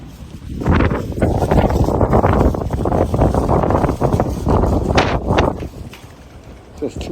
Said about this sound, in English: It's just too windy out here.